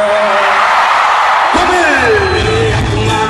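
Rodeo crowd at a Brazilian expo arena, a dense, loud wall of shouting and cheering voices, steady throughout, with a louder yell swelling midway.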